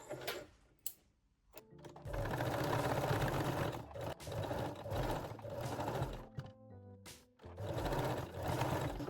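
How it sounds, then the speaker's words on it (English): A sewing machine runs straight-stitch and backstitch passes on a thong seam with fold-over elastic, sounding as a steady mechanical whir in bursts that stop and restart several times, close and fairly quiet. "Don't forget to backstitch or lock the seam."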